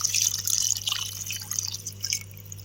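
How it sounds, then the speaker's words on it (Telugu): Water poured into a pot of layered chicken biryani splashes and trickles close by, an irregular pouring sound with droplets over a low steady hum, no talking. "అత్తేసరికి సరిపడా వాటర్ వేస్తున్నామండి"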